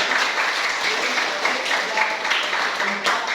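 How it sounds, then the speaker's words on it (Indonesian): Classroom applause for a student presenter, a continuous patter of many hands clapping at moderate loudness, with faint voices beneath. "Luar biasa, tepuk tangan kepada kawan."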